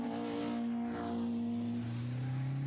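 A Caterham race car at Snetterton drones loudly, its engine note rising and falling through a spin in a 2004 race, heard steadily without talk.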